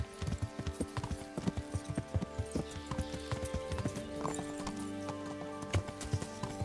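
A horse walks in the video game Kingdom Come: Deliverance, its hooves giving a steady clip-clop rhythm at close range over a faint game background hum.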